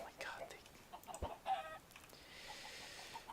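A chicken in Minecraft gives a few short, faint clucks in a quiet scene, with brief sparse noises between them.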